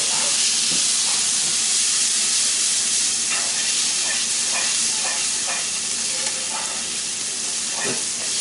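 Minced garlic sizzles steadily in a hot pan as a spinach artichoke spaghetti squash dish gets started, a dense constant hiss broken by a few scattered clicks and light stirring scrapes, close and fairly loud with no one talking.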